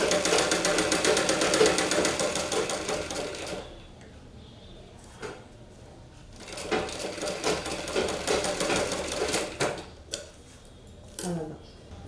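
A sewing machine stitches the front panel of a blouse in a fast, continuous run up close, then stops, followed by shorter bursts of stitching and handling clatter with pauses between.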